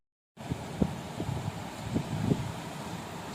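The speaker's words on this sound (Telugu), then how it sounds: "సముద్రం నుంచి వచ్చే అలలు కానివ్వండి, గాలి కానివ్వండి చాలా భయంకరంగా ఉన్నాయి" Strong night wind at Maypadu Beach near Nellore, with sea waves breaking. After a moment of silence, a continuous low rushing roar of wind sets in, with a few brief thumps and gusts buffeting the microphone.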